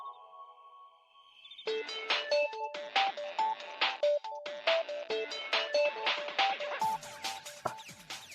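A phone ringtone for an incoming call plays alone as a bright, rhythmic electronic melody of repeated tonal notes, loud and steady, following a brief soft tone at the start.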